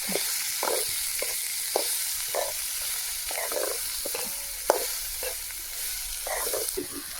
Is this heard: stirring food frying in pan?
yes